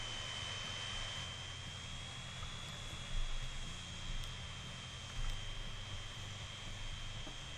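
Airliner on landing approach with undercarriage down in a transport management game, a steady, fairly quiet engine whine and hum holding throughout with a few soft bumps.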